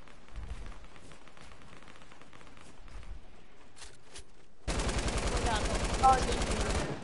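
A video-game minigun opens up partway through, a loud, rapid, unbroken stream of shots that continues to the end, preceded by quieter background game noise with scattered distant firing.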